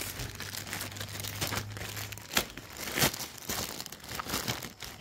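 Plastic wrapping around a necklace package being torn open by hand without scissors, with close, loud crinkling and crumpling that comes in irregular bursts and sharp rustles.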